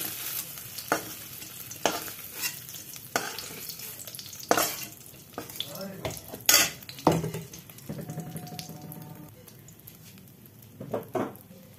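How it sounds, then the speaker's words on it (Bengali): Fried paneer pieces being stirred and lifted out of a wok, with intermittent scraping and utensil clatter over a low sizzle, loud close knocks scattered through. "এখন পনিরগুলোকে ভাজা হয়ে গেছে। এখন কড়াই থেকে আমি এগুলোকে নামিয়ে রাখছি"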